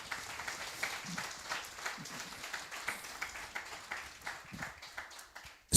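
An audience at a business workshop and expo claps for a speaker, a modest, fairly quiet round of applause with steady patter of hands that fades near the end.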